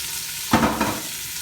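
Chopped onion hits a hot pot with butter and celery, bursting into a sudden loud sizzle that swells briefly, flares once more, then settles into a steady hiss.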